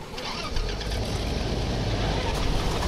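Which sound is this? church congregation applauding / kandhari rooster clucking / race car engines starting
race car engines starting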